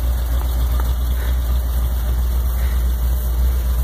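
A chopped-top hot rod with no windows and a purple front end idles loudly nearby, a steady low engine rumble with faint high whine above it.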